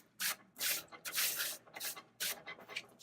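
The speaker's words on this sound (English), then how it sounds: "we're going to wipe off the shavings." Brisk rubbing and wiping strokes clear shavings off a surface while working on an electric motorized spa and hot tub trailer dolly, about five close, scratchy swipes in quick irregular rhythm with short pauses between them.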